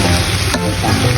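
Bitter melon (ampalaya) sautés in a hot pan, giving a loud, continuous sizzle with a brief stirring scrape partway through.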